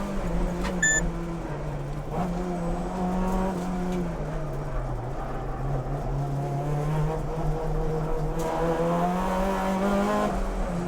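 Race car making a flat-out timed attack up a Japanese mountain pass on new Advan Neova tyres, its engine droning loud and close with rising and falling revs through the corners, no voices.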